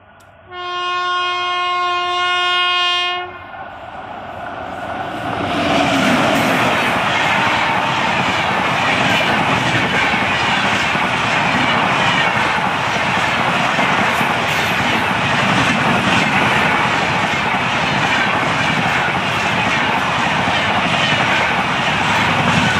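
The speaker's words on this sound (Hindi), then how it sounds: "ये आपने देखी ट्रेन, ओरिजिनल रूट की ट्रेन थी, डाइवर्टेड ट्रेन नहीं है ये।" An Indore to Una express train sounds a long, loud horn for about three seconds, then roars past nearby with steady rumbling and clatter that fills the rest of the time.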